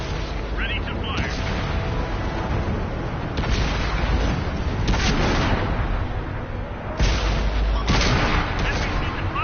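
Tank cannons and gunfire in the World of Tanks video game, a dense, loud barrage of booming shots and blasts that continues throughout, with game voice lines mixed in.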